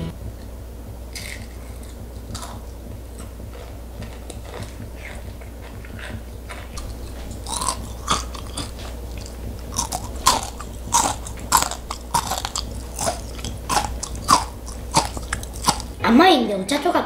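Crunchy bites and chewing of homemade kohakutou crystal candy, crisp on the outside and chewy inside; close, repeated crisp crackles that grow louder and more frequent midway, with faint background murmur.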